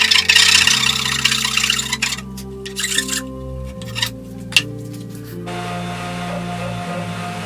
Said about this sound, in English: With a file and a sander, the new insert is sanded flush with the profile of the seat.